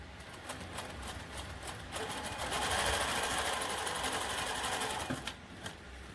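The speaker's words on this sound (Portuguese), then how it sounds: "Ela vai costurar na bordinha." A Jack Zig-Zag 20U semi-industrial sewing machine stitches along a fabric edge with a fast, steady mechanical whir, rising briefly in the middle, close and continuous with no speech.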